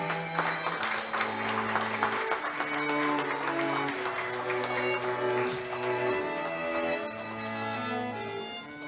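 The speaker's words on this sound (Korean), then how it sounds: "수상자분들께 다시 한번 큰 박수 부탁드립니다." Applause for award recipients at Pusan National University's 76th anniversary ceremony, soft steady clapping from the audience largely masked by ceremonial music with sustained tones playing over it.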